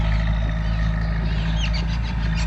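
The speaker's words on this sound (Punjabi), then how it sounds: "ਉਹ ਸਾਹਮਣੇ ਮਸ਼ੀਨ ਚੱਲਦੀ ਹੈ ਜੀਸੀਬੀ ਤੇ ਟਰੈਕਟਰ ਖੜਾ" A JCB excavator engine runs at a steady low rumble near a flood drain, with a few faint bird chirps above the drone.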